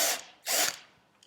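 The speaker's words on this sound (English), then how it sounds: "it's nice to give it a nice countersink here so the screw can easily find where it belongs" Drill bit cutting a countersink into a metal hospital plate for a horse's hoof, in two short whirring bursts with a faint tick at the end.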